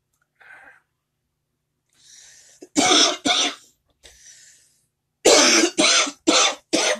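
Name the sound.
coughing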